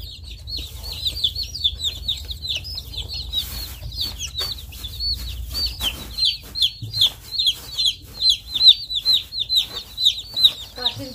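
Day-old ducklings and chicks cheep continuously in a cold poultry shed, a dense chorus of high, repeated peeps close by, growing louder and more insistent toward the end over a low background rumble.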